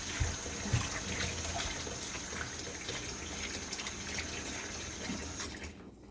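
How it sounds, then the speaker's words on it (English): Tap water runs steadily into a kitchen sink being filled to rinse collard greens, a continuous close gushing splash that holds even throughout and cuts off near the end. "I'm going to fill my other sink up with water and move these greens over to the other side."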